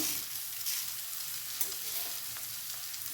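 Coriander and sugar frying briefly in a hot pan for a churumuri girmit snack, a steady close sizzle with a few soft stirring taps.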